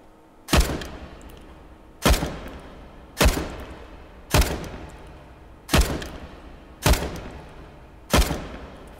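Seven evenly spaced gunshots in the VR shooting game Hot Dogs, Horseshoes & Hand Grenades, each a sharp loud crack with a short decaying tail, fired about every second and a half, with no talking.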